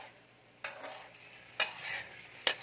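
A cooking pan of food is stirred in three separate scraping strokes over a low background hush, each stroke a short bright swish that fades out.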